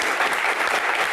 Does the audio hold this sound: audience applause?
yes